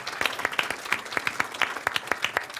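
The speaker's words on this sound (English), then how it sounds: "give a round of applause for that." A small group of people applauds with steady, overlapping claps at close range, indoors.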